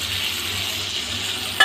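A ground paste of tomato, six green chilies and coriander leaves hits hot oil in a frying pan with a steady, close sizzle and a sharp clatter at the very end.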